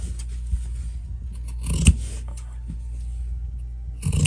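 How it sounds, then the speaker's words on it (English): Close, quiet snips of scissors trimming sewn fabric over a low steady hum, with a few brief cuts spread through and a louder one near the end. "And after I sew around, and I left it here open so I can go and trim this."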